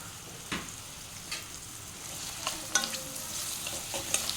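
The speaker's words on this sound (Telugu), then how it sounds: "ఆయిల్ హీట్ ఎక్కిన తర్వాత ఆనియన్స్ వేయాలి" Long-sliced onions frying in hot oil for chicken handi, a continuous soft sizzle with several louder crackling bursts and stirring scrapes, close and without talk.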